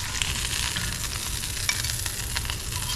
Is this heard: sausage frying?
yes